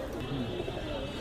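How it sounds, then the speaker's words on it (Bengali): Old-breed Benares pigeons coo softly at the busy Nayabati pigeon market in Khulna, low murmuring calls under a background hum of the crowd. "ভিউয়ার্স দেখেন এই সেই খুলনার সেই পুরনো জাতের আপনার হলো বেনারস কবুতর"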